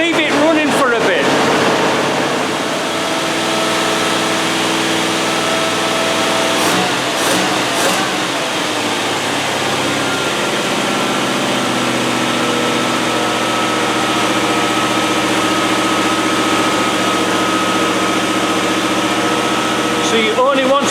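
A NATO V8 engine idles steadily, giving a constant loud droning hum with a few brief revving changes early on and no voices.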